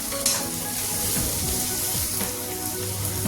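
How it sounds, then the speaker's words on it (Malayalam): Chopped taro stems are tossed into onions frying in a pan, producing a loud close sizzle with stirring scrapes and soft wet crackles throughout, no voices. "നമുക്ക് നേരത്തെ കട്ട് ചെയ്ത് വെച്ചിരിക്കുന്ന ചേമ്പും താളും കൂടെ ഇട്ട് കൊടുക്കാം"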